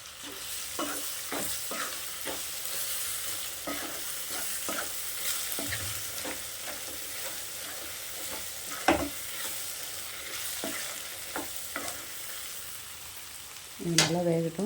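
Brinjal pieces fry in oil for a Tamil kathirikai kuzhambu curry, giving a steady close sizzle broken by repeated spoon scrapes and taps against the pan, with a louder clatter near the end.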